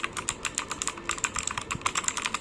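Rapid, steady typing on a mechanical keyboard fitted with Gypsum blue clicky switches, each keystroke a crisp, sharp click in a dense, continuous run, close and alone with no talking.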